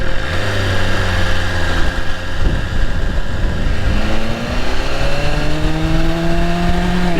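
A BMW S1000RR motorcycle with its stock exhaust revs loudly and close, its engine pitch climbing in smooth sweeps over a constant rough drone.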